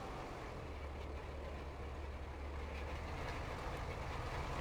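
Cambridge rolls rumble along behind a tractor in Farming Simulator 22, a steady low, even drone with a faint rattling texture that holds at constant level throughout.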